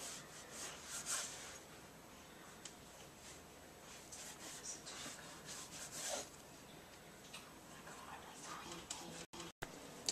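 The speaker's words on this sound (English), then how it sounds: "Now we're going to cut the dough into 12 strips." A knife cuts pretzel dough into twelve strips on a board, making soft, repeated scraping and rubbing strokes that stay faint and fairly even throughout.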